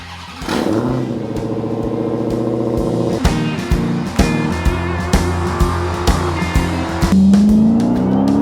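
A 707 hp Dodge Challenger Hellcat with a supercharged Hemi V8 revs hard and close, its loud engine note climbing and falling in repeated pulls with a rough, rising surge near the end; no voices.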